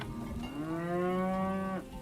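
A single drawn-out cow moo from the medieval village-building game Farthest Frontier, clear and fairly close, lasting over a second over a quiet ambient background with no talking.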